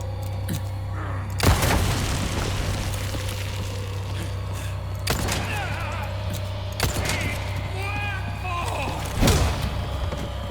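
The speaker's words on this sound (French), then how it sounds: "Une grenade aveuglante." In the video game Resident Evil 4, a flashbang grenade goes off as a sharp boom, one of several loud thuds spread across a busy game soundscape with a steady low hum and scattered mechanical rattles.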